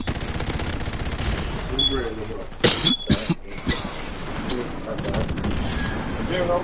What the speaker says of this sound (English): I'm getting shot too much this round